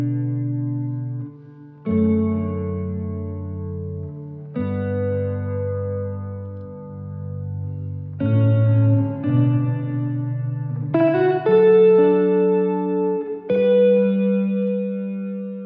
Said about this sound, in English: This is a brand new spring reverb.